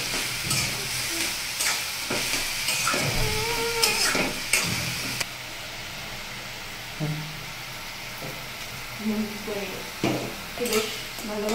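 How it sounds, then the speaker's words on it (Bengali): Stem greens with ginger and mustard seed stir-fried in a pan: steady sizzle with repeated scraping and clinks of a utensil against metal, close and moderately loud, with a quieter stretch in the middle. "এবার এটাকে নেড়ে চেড়ে ভালোভাবে মিশিয়ে নেব"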